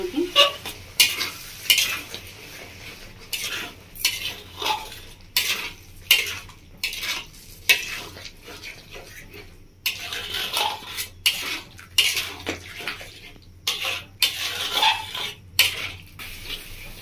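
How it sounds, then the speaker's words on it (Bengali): Potato and pointed gourd stir-fried with spices in a pan, a spatula scraping and clattering in an irregular rhythm over a soft background sizzle, with no talking. "আলু আর পটলটাকে ভালো করে কষিয়ে নেবো"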